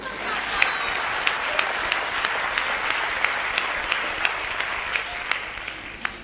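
Audience applause at a Hindi comedy poetry show, a steady wash of clapping from a crowd lasting several seconds, fairly loud and even, with no one speaking over it.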